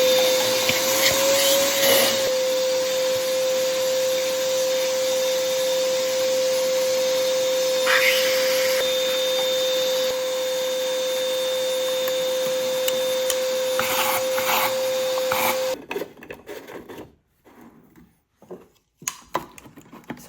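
A loud, steady vacuum cleaner drones while cleaning out a Wolf Foredom abrasive blaster, then cuts off abruptly near the end, leaving a few faint knocks and handling sounds.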